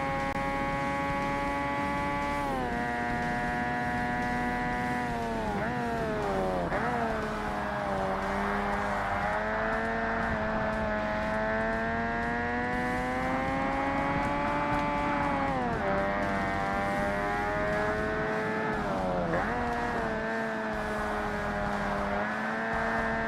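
A rotary-engined race car in Forza Motorsport on Xbox, its high, buzzing engine note holding steady and rising and falling with gear changes and throttle, loud and continuous throughout.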